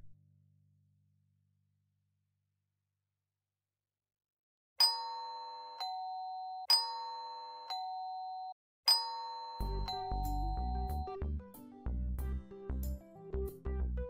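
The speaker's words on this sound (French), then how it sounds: "il insiste beaucoup sur la sonnette là" Doorbell in the Roblox game Brookhaven RP chimes in three repeated two-tone rings, clear and close, followed by bright game music.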